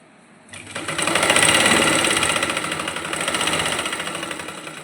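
A sewing machine runs steadily stitching the seam of a salwar, a close, continuous whirring drone that starts abruptly after a brief quiet moment and holds with slight swells to the end.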